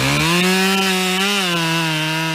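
A Husqvarna chainsaw running at high revs with a strong, steady whine and slight pitch wobble, close and loud, sounding as if it is working through wood.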